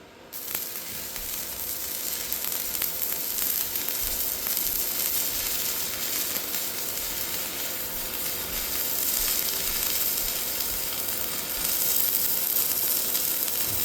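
Arc welding with a homemade welder built from a 2000s office PC, a steady crackling sizzle of the arc holding at close range for the whole stretch, with brief surges in intensity and no talking.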